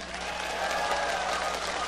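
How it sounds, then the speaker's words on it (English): A live esports crowd at a League of Legends quarter-final match between Azubu and TSM applauds steadily, a dense wash of clapping and cheering that holds evenly throughout. "can you please give yourselves a round of applause for being awesome and making it here?"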